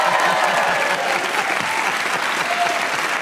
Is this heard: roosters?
no